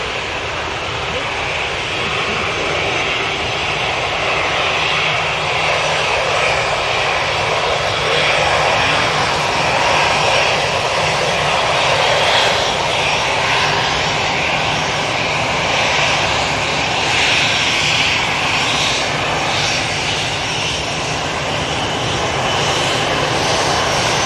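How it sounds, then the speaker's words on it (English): A Qatar Airways airliner turning onto final approach at Manchester Airport, heard as a steady, continuous broadband jet roar at moderate distance for the whole stretch, with faint talk in the background. "I can tell you Qatar's about to turn on to finals"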